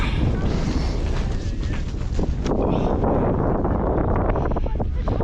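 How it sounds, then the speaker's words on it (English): Strong, continuous wind on a snowy mountain with low visibility buffets the microphone, a loud rumbling roar that fills the whole clip without letup. "I don't know if you can hear any of this because it's so bloody windy."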